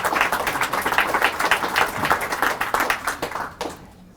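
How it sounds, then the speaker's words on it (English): Studio audience applauding a guest: dense, lively clapping from a crowd, fairly close and steady for about three and a half seconds before tapering off quickly. "Round of applause, everybody"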